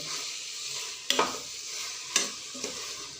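Rice and meat fry together for biryani in a pan, a bright steady sizzle broken by three sharp scraping stirs of the spoon, close up and alone.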